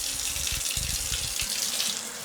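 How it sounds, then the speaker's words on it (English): Cold tap water runs from a faucet into a pan holding keycaps stuck to tape, a steady splashing stream close by with no talking. "And just get some cold water here."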